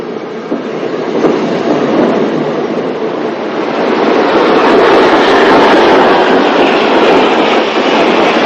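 A 9F steam locomotive hauls a cross-country freight train past, a loud continuous rumble with wagon clatter that swells slightly and holds steady.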